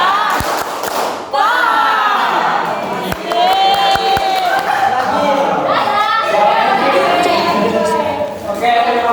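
Students in a classroom lesson perform a short clap-and-chant routine, with many young voices chanting and cheering together loudly while a few sharp claps punctuate the group noise.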